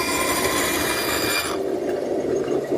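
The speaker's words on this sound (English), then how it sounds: "Now I can bring the blank over, drop it on the pin, and spin it around, making the cut." Bandsaw cutting a round wooden table top blank spun on a pivot pin, a close, continuous whining blade rasp through wood that drops to a lower idle hum partway through.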